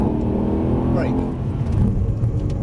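A Mercedes-AMG C63 saloon brakes hard inside the cabin, a loud engine and road drone dropping as the car decelerates, with a voice speaking over it.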